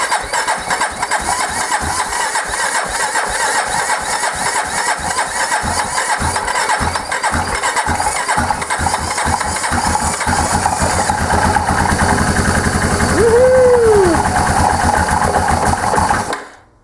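A freshly rebuilt Yamaha Kodiak ATV engine turns over with rapid cranking pulses, catches and fires, then settles into a loud, steady close-up idle with a brief rev near the end before cutting off abruptly.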